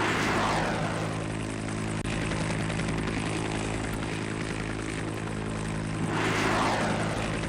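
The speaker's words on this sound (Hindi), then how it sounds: "यूक्रेन का ये Mi-24 हेलीकॉप्टर है जो कि उड़ान भर रहा है" Ukrainian Mi-24 helicopter in flight, a loud, continuous engine and rotor drone with a steady low hum that swells slightly toward the end, with no voices.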